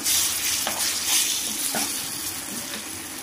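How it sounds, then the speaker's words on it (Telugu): Gongura leaf paste fries in hot oil in a pan, giving a loud, close sizzle with a few scraping stirs over a short stretch. "ఇప్పుడు మనం గోంగూర పేస్ట్ని కూడా వేసి బాగా ఆయిల్లో మగ్గించుకోవాలి"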